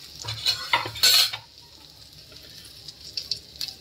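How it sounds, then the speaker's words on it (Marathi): Mustard seeds roast in a hot pan, with a cluster of sharp crackles, pops and utensil clatter in the first second and a half, then quieter scattered spitting and light sizzle, no talking. "मोहरी भाजूया थोडीशी।"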